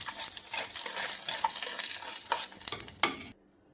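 A hot tempering of mustard seeds, fenugreek, shallots, dried chillies and curry leaves is poured into a Kerala-style green gram and mango curry, giving close, fizzing sizzles and stirring scrapes that stop abruptly.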